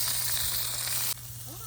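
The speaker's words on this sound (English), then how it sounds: "Check out that sizzle." Steak sizzles loudly on a hot grill with a bright hissing crackle that suddenly drops to a quieter sizzle near the end.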